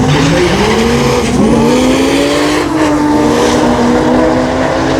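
A Nissan Skyline drag car tears down the strip at a Brisbane drag-racing meet, its engine roaring loud and close at a sustained high pitch, with a brief rising sweep as it pulls through a gear.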